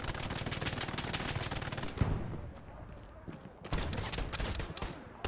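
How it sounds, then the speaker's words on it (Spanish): Rapid bursts of automatic rifle and machine-gun fire from Hell Let Loose, a World War II shooter, loud and sustained, dropping briefly into a quieter gap before resuming, with a sharp close shot standing out. "Me están disparando."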